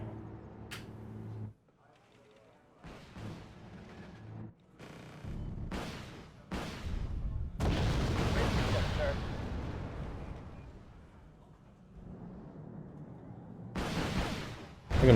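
Big bombs explode in the video game Wargame: Red Dragon during a Second Korean War campaign battle: a series of deep booms and rumbling blasts, with a long rolling explosion in the middle and sharper bursts near the end.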